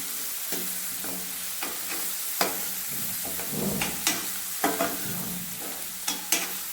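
Onion sagu in a pan with coriander leaves added, stirred with repeated spoon scrapes and knocks over a soft, steady sizzle heard up close.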